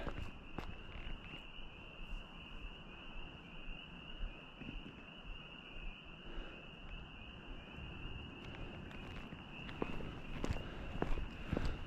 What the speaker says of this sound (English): Frogs are going crazy because we had rain.